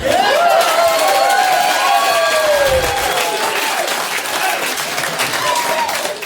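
Loud, sustained audience applause fills a comedy club stand-up show, dense clapping with some crowd noise and a few voices rising over it throughout.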